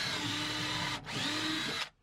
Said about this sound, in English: Go ahead and pre-drill just to make sure nothing splits.